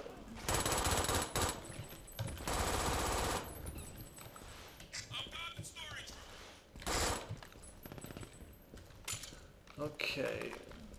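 Rapid gunfire bursts in the shooter game Brink, loud crackling volleys that start and stop in several spurts while someone talks over and between them.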